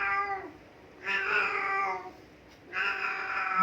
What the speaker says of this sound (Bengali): দেখেন আমার বিড়াল শব্দ করছে।